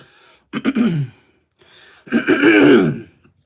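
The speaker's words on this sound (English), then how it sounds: "I'm coughing up a fucking lung." Two rough bursts of throat clearing and coughing, close to the mic, separated by a short pause, the second longer and harsher.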